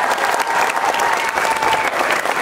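Dense, steady applause from a crowd at an outdoor Walk for Hope charity event, loud and continuous throughout the short stretch.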